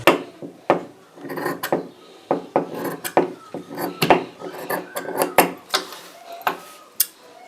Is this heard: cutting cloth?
yes